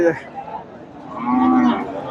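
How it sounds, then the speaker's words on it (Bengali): A Friesian cow at a cattle market gives a single loud, drawn-out moo, close by and rising in the second half, with faint market noise behind it. "ফিজিয়ান গরুটা"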